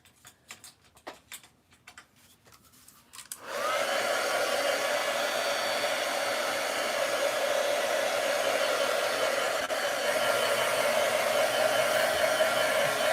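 A hair dryer drying a printable parade craft: after a few seconds of light tapping and ticking, the dryer switches on and runs with a loud, steady whooshing whine to the end.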